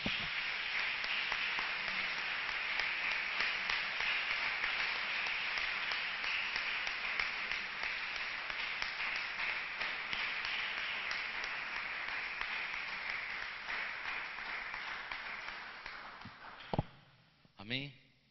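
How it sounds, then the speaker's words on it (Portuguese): Church congregation applauding together in a sustained, dense wash of clapping that holds steady for most of the stretch, then thins out and fades near the end, with a couple of isolated claps at the close. "Quem pode aplaudir a Jesus?"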